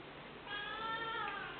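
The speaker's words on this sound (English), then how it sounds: "It's a pretty cat." A pet cat meows softly once, a drawn-out, faint call rising over quiet room background.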